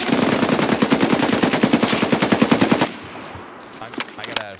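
Sustained automatic gunfire in Escape From Tarkov, a rapid, loud burst of evenly spaced shots lasting nearly three seconds, then a few scattered quieter sounds afterward.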